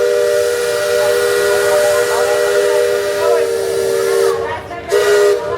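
A steam whistle on the Liberty Belle riverboat sounds one long, steady, loud blast with hiss beneath it, dropping out briefly near the end before sounding again.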